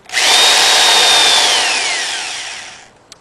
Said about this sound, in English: So I went to the store and got a wire brush for my drill.